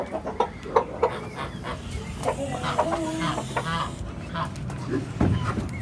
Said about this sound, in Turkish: Ama horozumuz da bir de bana alıştı artık.